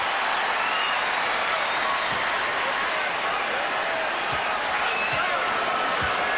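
Basketball crowd at the Coliseum roaring steadily in a tied 1994 NBA game between the Magic and Hornets, a loud continuous cheer and applause with occasional ball bounces or thumps under it.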